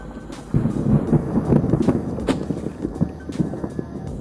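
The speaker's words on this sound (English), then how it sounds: "Here's some thunder going on." Thunder rumbles in a series of low, uneven bursts during a storm out on the water, fairly close and heavy, with no voices.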